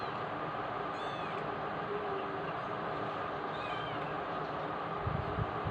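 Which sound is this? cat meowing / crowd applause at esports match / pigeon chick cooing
cat meowing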